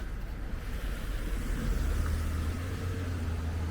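A car pulls away on a snowy street, its low engine rumble rising and holding steady at moderate distance beneath faint outdoor background noise.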